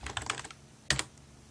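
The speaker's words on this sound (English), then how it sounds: "Now I type hello" Computer keyboard typing on a PC while entering Java commands: a quick run of close, light key clicks followed by a short pause and a second brief burst of sharper keystrokes.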